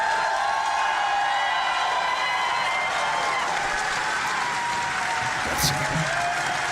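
Sustained crowd clapping and scattered cheering at a PAX West 2024 Monster Hunter Wilds panel, an even wash of applause throughout with a brief whoop near the end.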